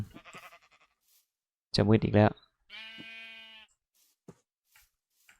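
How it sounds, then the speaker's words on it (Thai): A sheep in Minecraft bleats once in a steady, buzzy, mid-length cry, heard clearly after a short burst of speech, with scattered quiet clicks around it. "มีแกะครับผม"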